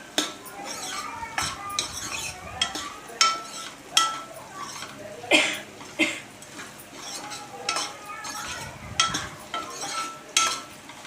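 A metal spoon scrapes and clinks in a pan as small bitter gourd curry is stirred. The strokes repeat in a steady rhythm over a soft sizzle, close and fairly loud, with no talking.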